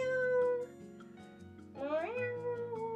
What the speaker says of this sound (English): My cat likes your streams. Meow,